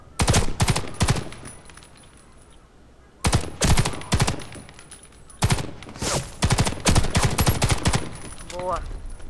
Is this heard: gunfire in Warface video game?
yes